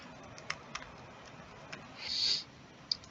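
Sparse keystrokes on a computer keyboard while entering a login, a few distinct close clicks spaced apart over quiet background hiss, with one brief higher whir in between.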